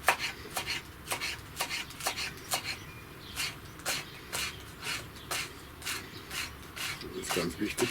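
Wild garlic leaves chopped into small strips with a knife on a board, a steady run of close, crisp blade strikes at an even rhythm, with faint background speech.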